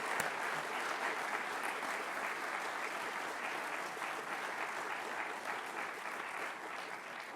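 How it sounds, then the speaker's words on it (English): A seated audience at a lecture event claps for a speaker in steady, sustained applause that holds at an even level from start to finish, with no talking over it. "let's give a round of applause again for Dr. Bradley."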